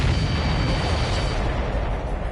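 Supply ships explode in the video game Ace Combat 7, a loud continuous rumbling roar of blasts that fills the clip and fades slightly at the end.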